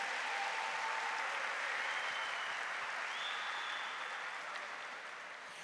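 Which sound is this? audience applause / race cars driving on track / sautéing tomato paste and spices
audience applause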